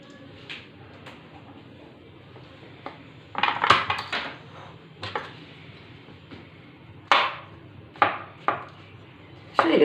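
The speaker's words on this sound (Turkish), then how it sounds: "Hemen doğramasını da göstereyim." Knife chops mushrooms on a cutting board, scattered sharp knocks that grow louder and more regular midway, with faint clinks between.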